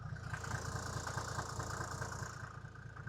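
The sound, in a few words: Mercedes G350d diesel engine idling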